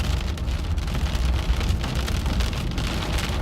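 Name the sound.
hail and rain hitting storm chaser's car in storm core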